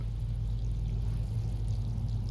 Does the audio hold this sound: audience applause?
no